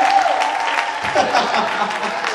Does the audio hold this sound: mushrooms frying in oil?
no